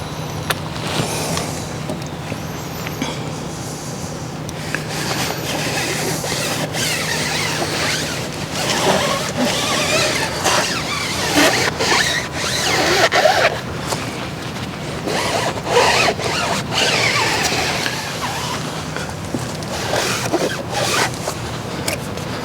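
An oversized applicator rubs Dodo Juice Dark Matter tyre dressing onto a car tyre, giving close, continuous scrubbing and swishing strokes in an uneven rhythm with no talk.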